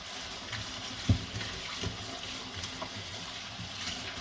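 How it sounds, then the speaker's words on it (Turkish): Plastic plates are washed by hand under a running kitchen tap, with a steady stream of water and a few soft knocks and splashes, close and fairly quiet, with no talking. "Bu tabaklar tabii ki plastik. Hemen elde yıkayayım."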